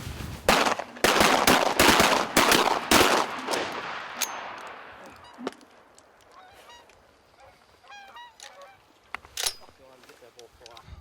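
Canada geese honk overhead during a Minnesota goose hunt over a gravel pit with decoys, starting with a rapid volley of loud gunshots, then scattered honking calls nearby and farther off, with occasional voices.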